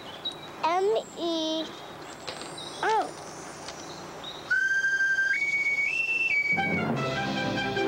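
A whistled tune in a 1998 TV commercial, bright pitch-sliding whistles in short bursts alongside a voice, followed by sustained stepped tones with music.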